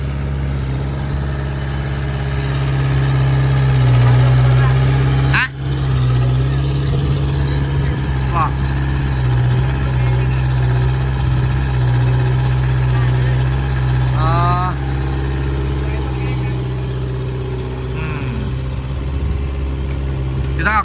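A log-grabbing excavator's diesel engine idles steadily and loud throughout, with a low constant hum and a few brief clanks and squeaks of the grab working in the background.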